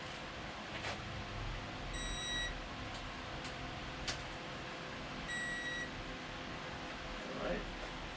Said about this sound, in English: We're not clicking anymore. We're beeping.